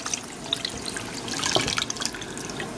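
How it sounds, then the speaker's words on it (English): Juice is poured into a bowl of homemade salsa, a continuous splashy trickle of liquid lasting a few seconds, close and fairly loud with no talking. "then you pour in the remaining of the juice"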